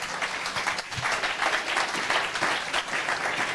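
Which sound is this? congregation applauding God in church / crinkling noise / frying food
congregation applauding God in church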